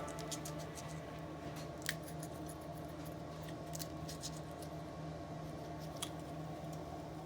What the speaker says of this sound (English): And then once you break the head off, just cut the back.